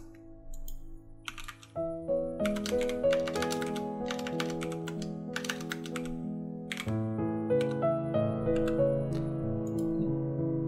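Someone types a location into a search box on a computer keyboard. The keystrokes come as quick, close, irregular bursts of clicks over soft background music.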